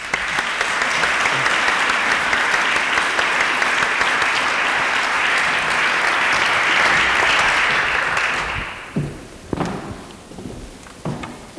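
Sustained applause from a lecture audience at SCI-Arc welcoming the design duo Post-Tool, steady and dense for about eight seconds before thinning into a few scattered claps.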